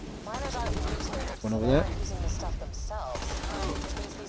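Elemental damage-over-time guns fire in Borderlands 2, quick bursts of shots popping under a voice as he talks over the action.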